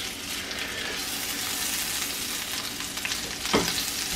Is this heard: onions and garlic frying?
yes